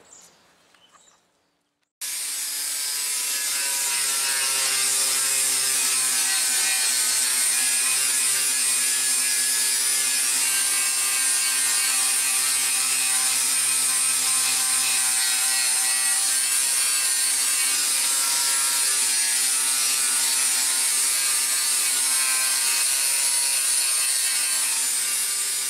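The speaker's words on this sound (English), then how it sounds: "I'm gonna use my grinder with a flap disc on it. Take it down to bare metal" Angle grinder fitted with a flap disc grinds a car body panel down to bare metal, a loud steady high-pitched whine with abrasive rasp running continuously after a brief quiet start.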